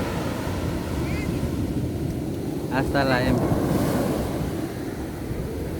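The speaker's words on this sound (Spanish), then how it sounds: "aquí estamos aquí con el sonido de las olas" Ocean surf on a beach in El Salvador, a constant roar of breaking waves mixed with wind buffeting the microphone, with a brief spoken voice partway through.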